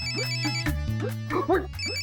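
A phone ringtone plays a repeating electronic melody in quick pulses, close and clear over a low hum, with brief voice-like sounds mixed in.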